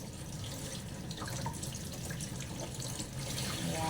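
Tap water runs steadily into a sink while pork is washed, a continuous splashing gush with small shifts and clinks as the meat is handled.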